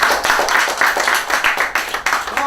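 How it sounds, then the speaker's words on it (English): A round of audience applause at a graduation ceremony announcing CSEC results: loud, close, busy clapping from many hands, swelling and dipping in uneven waves over a couple of seconds. "A round of applause again."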